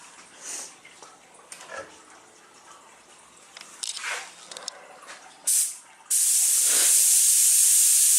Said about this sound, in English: About 18 psi on the activator gun.